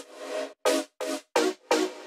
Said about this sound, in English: It's some extra synths that I found from Vengeance.